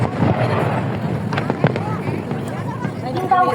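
Hong Kong National Day fireworks crackle and pop in scattered bursts over a crowd, mixed with nearby voices and a loudspeaker announcement.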